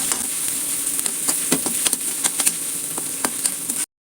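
Garlic, ginger and slit green chilies sautéing in a pan for chicken chukka, a loud bright sizzle punctuated by frequent sharp stirring scrapes, ending abruptly.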